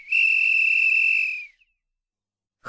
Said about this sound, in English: Miss Battle-Axe blew her whistle.